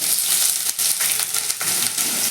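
Thinly sliced onion frying in hot mustard oil as a loud, continuous sizzle close by, with a few brief dips where it is stirred.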